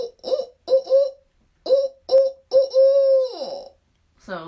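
A person imitates a barred owl's hoot call with a string of rounded 'ooh' hoots in uneven rhythm, ending with a longer drawn-out hoot, close and clear with nothing else underneath.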